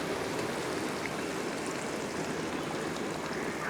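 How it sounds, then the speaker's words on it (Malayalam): About half a glass of hot water pours continuously into a pan of cooking beef with a steady rushing splash, close and even in loudness for a few seconds. "ഈ സമയത്ത് ഞാൻ ഒരു അര ഗ്ലാസ് ചൂടുവെള്ളം കൂടെ ഒഴിക്കുകയാണ്"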